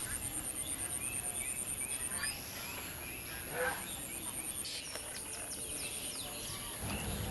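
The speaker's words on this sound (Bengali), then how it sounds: "ঝিঝি পোকার আওয়াজ শুনতে পাচ্ছেন" Crickets trill faintly in rural countryside during the monsoon season, making a steady pulsing high chirr with occasional bird calls in the background.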